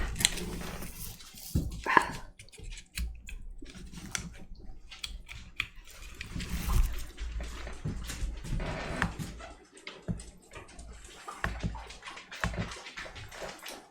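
Dogs bark indoors in a cluttered home setting, several barks mixed with rustling and scraping noises over a steady stretch, moderately loud and close, with no one speaking.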